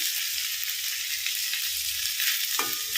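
Chopped tomato, onion and curry leaves sauté in a hot pan, giving a dense, steady frying sizzle with light stirring noises, close and continuous with no talking.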